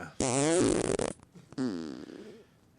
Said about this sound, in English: That's the title of the email, farting soundtrack.